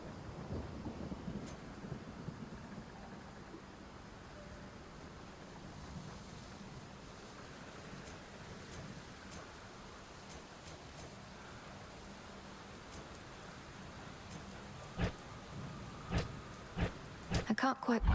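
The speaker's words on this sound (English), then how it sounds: "It's raining now?" Steady rain hiss with low rumbling thunder in the video game Hades 2, a continuous stormy bed that turns into sharper crackles and thumps near the end.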